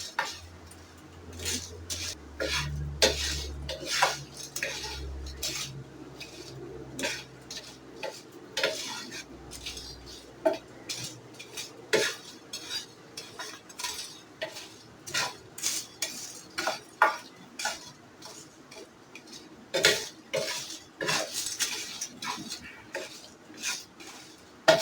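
Metal spoon stirring and scraping ajwain and whole spices dry-roasting in a pan over a medium flame, a steady run of close clinks and scrapes with irregular rhythm, with no talk over it.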